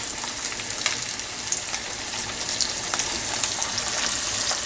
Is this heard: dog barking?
no